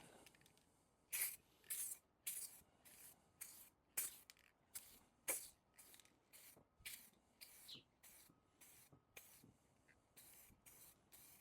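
Short bursts of spray paint hiss out in a steady rhythm onto BMX bike parts outdoors, about a dozen quick sprays with brief pauses between, fairly quiet and close.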